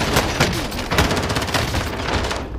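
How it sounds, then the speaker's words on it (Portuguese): Dense gunfire from a battle royale video game, with rapid overlapping shots and bursts of automatic fire that keep up loudly and steadily across the whole stretch, with no talk over it. "Ó, tem muito tiro aqui, Snarf."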